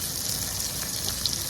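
Chopped onion with bay leaf and black cumin sizzling in hot oil, a steady close crackling hiss of frying with scattered pops.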